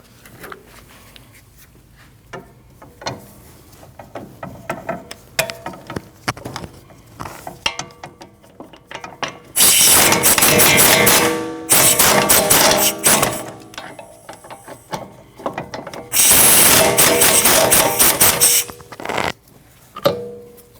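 A ratchet wrench works loose the 15mm lower shock bolt on a 2013-2019 Ford Escape, with loud, sustained bursts of rapid clicking in two long runs, separated by quieter metallic handling and tool noise nearby.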